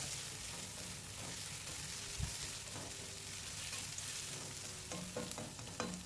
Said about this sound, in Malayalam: നന്നായിട്ട് ഒരു ചെറിയ സ്ലൈറ്റ് ഗോൾഡൻ ബ്രൗൺ ആവുന്ന വരെ ഒന്ന് ഇളക്കി കൊടുക്കാം.